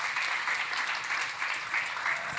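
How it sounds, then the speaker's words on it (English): An audience at a conference keeps clapping for lightning talk speakers returning to the stage, a dense, steady roar of many hands that holds at an even level throughout. "You can keep on clapping,"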